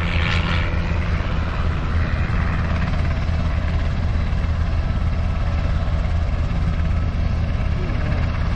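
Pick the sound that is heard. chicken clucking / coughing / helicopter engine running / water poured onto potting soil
helicopter engine running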